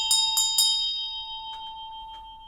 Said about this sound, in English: But the bell will ring.